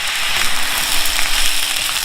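Shrimp fried rice seasoned with soy sauce and dark soy sauce stir-fried over medium heat, giving a steady, close, continuous sizzle and crackle of frying without pause and with no talking.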